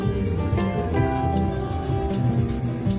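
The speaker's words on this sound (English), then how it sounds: "So now I'm going to go in with a 240 grit file and just refine the sides." A 240 grit file rubs along the sides of a fingernail in soft, continuous close-up scratching strokes, quiet and steady over a few seconds, with no voices.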